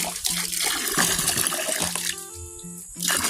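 Water flowing out from under the ground, a steady nearby gush and splashing trickle with a faint tonal whine partway through, continuing throughout without talk.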